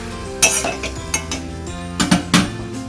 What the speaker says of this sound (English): So just give it a quick whisk.